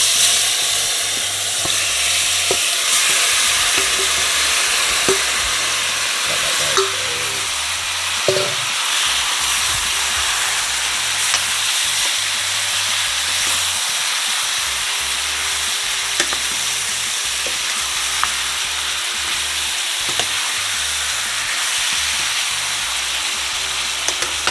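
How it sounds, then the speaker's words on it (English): Oxtail fries in a hot pot for Jamaican curry, a steady close sizzle and hiss with occasional scraping stirs and small clinks throughout. "now I'm gonna add all the oxtail"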